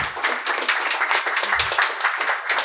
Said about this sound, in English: I would like to ask you to join me for a round of applause for our panelists.